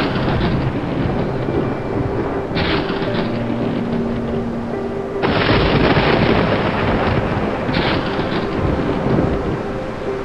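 A thunderstorm sound effect for a children's Sunday school telling of Jonah at sea: a loud, steady roar of storm and rain with heavy rumbling thunder surges rising and falling throughout, no voices.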